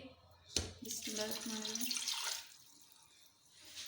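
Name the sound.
adding a glass of water to keema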